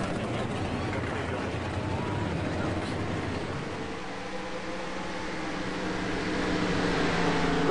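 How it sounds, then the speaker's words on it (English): A race car engine idles and hums steadily before the start of an iRacing-style oval race at Delaware, a continuous mid-level drone with a commentator talking over it. "Okay, the engine's already fired up."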